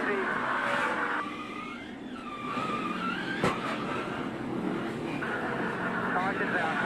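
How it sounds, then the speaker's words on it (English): A NASCAR race car engine revs and lifts off under throttle control, its roar running steadily beneath excited commentators talking throughout. "Oh, you hear the throttle control."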